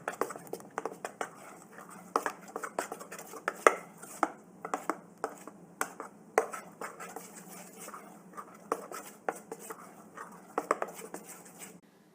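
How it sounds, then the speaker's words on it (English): Ground rice and lentil batters for adai, a multi-lentil dosa, being mixed together by hand, a string of quick, wet slaps and clicks in an uneven rhythm, close and fairly quiet, with no voices. "And mix both the batters real good."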